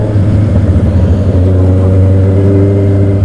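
A Honda CB650R-E motorcycle engine drones steadily up close, a deep, even hum with a slight rise in pitch toward the end.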